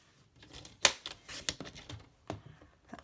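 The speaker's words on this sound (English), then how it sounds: "so I'm going to cut a little bit more" Scissors cutting paper for a junk journal: a few quick, close snips and crisp clicks spaced irregularly over a few seconds, with faint paper rustle between them.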